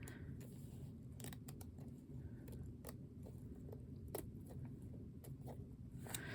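Scissors snipping and trimming paper for a budget journal, a series of quiet, irregular crisp cuts close by over a low steady background hum.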